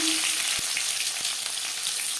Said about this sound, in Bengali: ফোড়নে দিয়ে দিলাম পেঁয়াজ কুচি